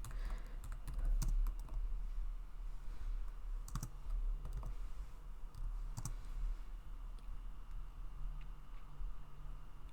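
Someone types on a computer keyboard, a steady run of soft, close key clicks over a low hum, with no talking.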